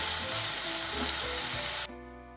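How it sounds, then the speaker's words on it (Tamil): Sliced shallots and garlic sauté in hot oil in a pan, a steady close sizzle running continuously for about two seconds before it abruptly drops off, with no talk. "இப்போ வெங்காயம் அந்த பூண்டும் இதோட நல்லா வதங்கிடும்"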